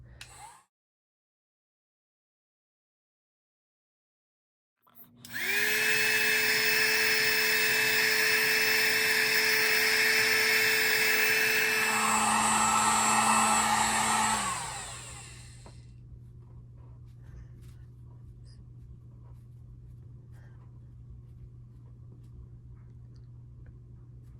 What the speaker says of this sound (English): go ahead and get your heat gun again and repeat the process